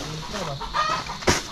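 Chickens clucking on a banana farm, a few short clucks and fowl calls close by over outdoor background, with a brief louder burst near the end.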